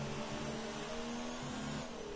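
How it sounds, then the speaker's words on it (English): A race car in a racing game holds high revs in sixth gear, a steady buzzing engine drone with shifting tonal lines, faint and unbroken. "This guy's just revving that engine out of 6th gear."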